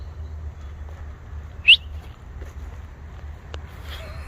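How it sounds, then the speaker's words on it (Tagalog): A single loud, sharp bird call rings out once midway through an outdoor walk, standing above a steady low background rumble, with a faint click later. "Nagulat ako, lakas ng huno ng ibon eh."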